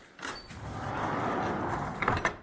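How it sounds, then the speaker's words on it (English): Stable doors on a horse barn slide shut in winter weather, a steady rolling rumble lasting about two seconds with a few knocks and clatters near the end, fairly close and with no talking. "Let's go close those doors."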